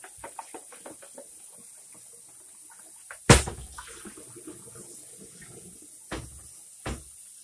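Water flushing down a household drain treated with Rid-X, starting with a sudden loud splash and clunk, then a steady low wash of running water with a few sharp knocks near the end.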